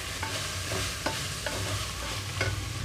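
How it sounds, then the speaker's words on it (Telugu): Chopped mushrooms and vegetables sauté in a pan for a coconut-milk mushroom biryani, with a steady sizzle under repeated clacking spatula strokes at an irregular pace, heard up close with no talking. "కట్ చేసి పెట్టుకున్న మష్రూమ్స్ కూడా ఇందులోకి వేసేస్తున్నాను"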